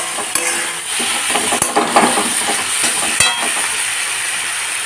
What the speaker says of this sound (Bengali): এখন এটাকে দিয়ে ভালো করে কষে নেব।